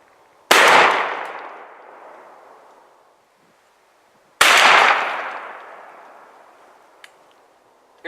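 Two loud shotgun blasts fired with a turkey load at a turkey target 30 yards away, each a sharp crack followed by a long rolling echo that fades over about three seconds, heard outdoors with no talking.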